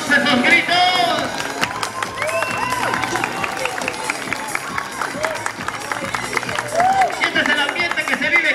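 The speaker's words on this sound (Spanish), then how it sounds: "Vengan esos aplausos, queridos amigos, esos gritos." Spectators at an enduro race prologue in Temascalcingo applaud and cheer, a busy crowd roar with clapping and shouts throughout, mixed with a loudspeaker voice and general hubbub.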